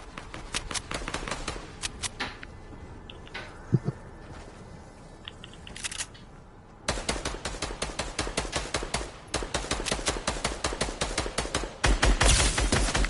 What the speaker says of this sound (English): It's okay, they're only firing at me